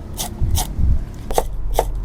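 Herbs such as turmeric, galangal and lemongrass are sliced and pounded for Khmer curry paste, heard as a few sharp, close, quiet knocks in an irregular rhythm.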